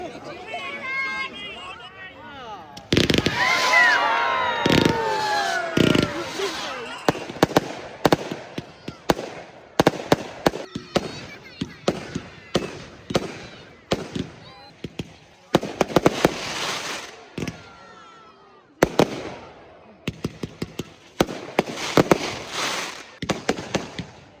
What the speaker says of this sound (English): it's time to enjoy the fire and the fireworks